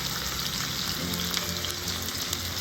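Halved steaks sear in a hot pan, giving a steady, loud, close sizzle and crackle that does not let up and has no voices over it.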